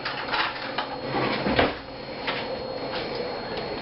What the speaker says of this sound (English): Let me get a spoon here real quick.